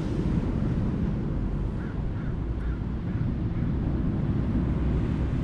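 Steady, loud wind rushes across the microphone on the Pacific Ocean shore in fine weather, with a low, continuous roar that may include surf. No one speaks.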